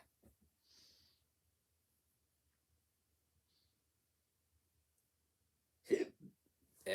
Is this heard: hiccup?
yes